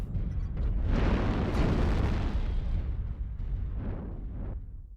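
Artillery strike explosions in a mech strategy video game, a cluster of deep rumbling booms rolling together over a few seconds before fading out.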